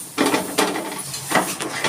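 Ground bottle gourd seed paste going into a pan of lau kofta curry with soft tomato, heard as three or four short clinks and scrapes of a utensil against the pan, close and fairly clear.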